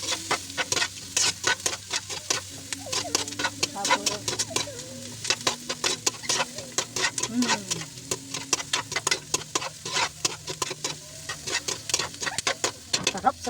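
Ginger and other ingredients are stirred together in a sizzling cooking pan, with quick, rhythmic scraping strokes repeated close up over steady frying, and a voice is briefly heard in the middle.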